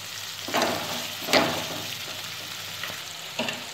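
Tomatoes frying in a pan for pav bhaji, Indian street food cooked restaurant style: a steady close sizzle with a few louder bursts as the mix is stirred, no voices.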